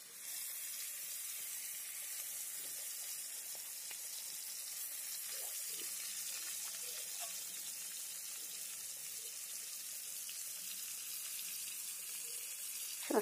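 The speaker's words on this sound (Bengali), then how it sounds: "তেলটা গরম হয়ে গেছে। এবার আমি মাছটা এর মধ্যে দিয়ে দিলাম।" Hilsa fish coated in mustard paste and green chilli frying in a little hot oil in a wok: a faint, steady hissing sizzle that holds evenly throughout, with occasional small crackles.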